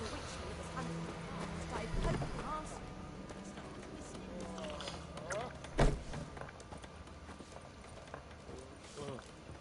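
Roach, the horse in The Witcher 3, gallops with steady clip-clopping hooves under game music and ambience, while a person talks over it.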